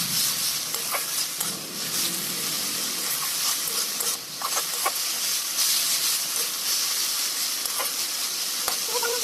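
Dheki shak fern greens frying in a pan with turmeric powder, stirred steadily throughout, a loud, close, continuous sizzle and hiss broken by repeated scraping and clinking strokes, with no voices.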